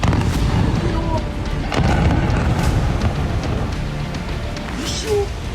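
Russian missile strikes in Ukraine: heavy, rumbling booms roll one after another under a dense, roaring background, loud and close, with deep low-end thuds.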